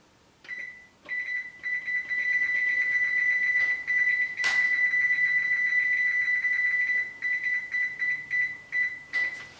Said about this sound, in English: Okay, my timer's going off.